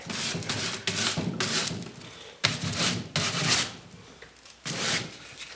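Paint is rubbed off a painted Welsh dresser to give it a shabby chic distressed finish, making repeated rough scraping and sanding strokes in uneven bursts with short pauses between, close and fairly loud.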